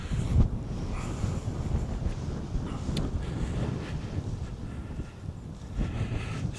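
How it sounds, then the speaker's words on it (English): Wind blows steadily outdoors near the Torksey Viaduct on a warm countryside walk, a dense low rumble buffeting the microphone with gusts throughout and no talking. "so this wind, it's a bit windy, a bit breezy"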